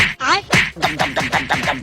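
A rapid series of raspy, nasal quacks, about seven in under two seconds, loud and close.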